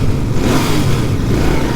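Royal Enfield Bear 650 motorcycle engine revving, a steady loud low-pitched drone that holds throughout with no break and no voices.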